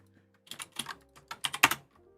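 Bursts of keystrokes on a computer keyboard during cafe prep work, clicking in short irregular clusters at moderate closeness, with quiet gaps between runs and no talk.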